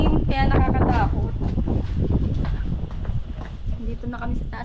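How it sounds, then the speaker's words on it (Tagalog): Strong wind buffets the microphone high on a mountaintop, a continuous heavy roar with gusts, loud and close, while people talk over it. "Ang lakas kasi ng hangin, kaya nakakatakot."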